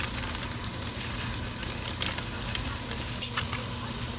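Ground fish and ground shrimp sizzle and fry in a pot for Ghana jollof, a steady close crackling hiss with stirring scrapes, no voice over it.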